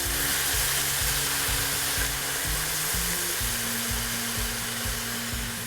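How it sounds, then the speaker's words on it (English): Red wine deglazing a hot pan for pork ragu, heard as a loud, steady hissing sizzle that fills the whole stretch, close by, with a low hum beneath. "Now I'll deglaze with red wine."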